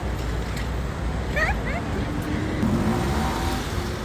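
Road traffic noise in Taguig, a continuous loud rumble of passing vehicles with faint high squeaks, under a person talking.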